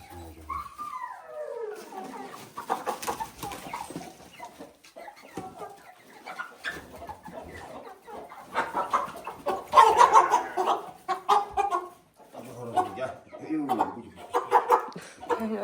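Roosters in village coops cluck and squawk in bursts close by, mixed with people talking and moving around.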